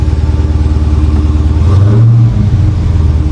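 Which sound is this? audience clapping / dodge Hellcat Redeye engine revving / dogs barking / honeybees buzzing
dodge Hellcat Redeye engine revving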